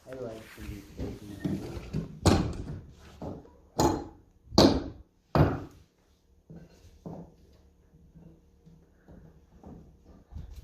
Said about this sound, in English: So we gotta get these nails out.